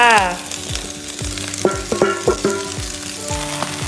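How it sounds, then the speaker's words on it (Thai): Winged beans stir-fried over strong heat in a pan with softly scrambled egg sizzle steadily, while a utensil clacks and scrapes against the pan in a quick, uneven rhythm, close and fairly loud. "ใส่ถั่วกูลงไปก็ผัดเลยค่ะ"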